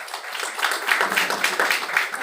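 Children clapping in a round of applause during a tongue twister game, a brief moderate burst of scattered hand claps, fairly close with no clear voices.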